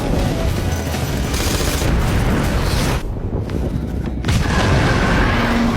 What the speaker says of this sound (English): she wildly fires her gun